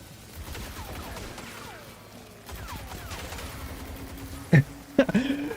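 Gunfire at glowing orbs in Destiny 2, rapid muffled shots rattling under a busy game soundscape, with a couple of sharp louder bursts near the end.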